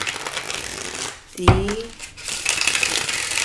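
Tarot cards shuffled by hand give a steady crinkly rustle close to the mic, with a brief voice breaking in midway.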